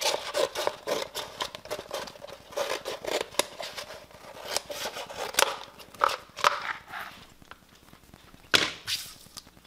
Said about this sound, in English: I can trim my material up so it's pretty much about to the size that I'm going to need for this actual cut